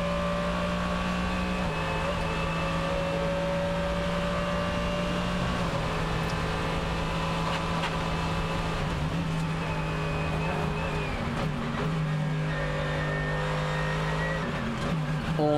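Race cars at the Nürburgring 24-hour race, including a Mercedes-AMG GT3, pass the Fuchsröhre section in a continuous loud engine roar with shifting pitch as they accelerate and pass.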